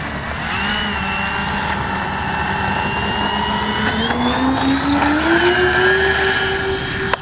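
The engines of an RC B-25J warbird model airplane at a flying field drone loudly and continuously, their pitch climbing steadily as the throttle rises, with no speech over them.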